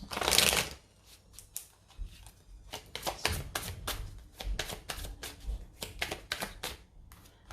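Tarot cards shuffled in a run of crisp riffling bursts, a loud opening flurry followed by repeated quick snaps and slides at close range, with no talking.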